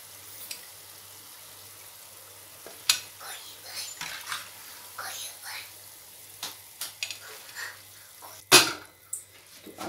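Pakoras deep-frying in oil over a low gas flame, a quiet steady bubbling hiss broken by a few sharp clinks of a spoon or pan and soft stirring sounds.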